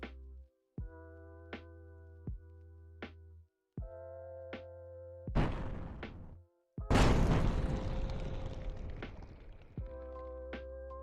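Bomb explosions in a game jam video game burst as two loud, noisy blasts, the second longer and decaying, between bright synthetic electronic tones that start and stop in short blocks.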